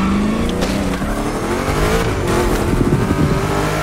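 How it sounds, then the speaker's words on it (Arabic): A car drifting in The Crew Motorfest, a loud revving engine with shifting pitch and tire squeal layered over it, close and continuous for the whole stretch with no talk. "يا درفت"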